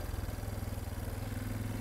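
Heavy DR dirt bike engine chugging steadily while cruising along a trail, a low, even pulsing drone that stays close and constant throughout.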